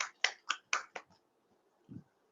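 A handful of sharp, separate claps in quick succession, close and quiet, then a soft low thump, as listeners at a church gathering welcome a speaker.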